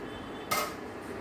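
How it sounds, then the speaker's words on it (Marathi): A lid comes off a cooking pan of potato and cornflour breakfast dough steaming on the stove: a sudden short scrape and clink, then a soft hiss of released steam fading over about half a second. "आता आपण हे झाकण काढून घेऊ"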